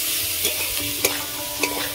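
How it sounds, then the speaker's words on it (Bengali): Winter vegetables stir-fried for veg fried rice, a continuous loud sizzle with quick spatula scrapes and a few sharp clacks against the pan, close up and without voices. "সবজিগুলো ভাজা হয়ে গেছে।"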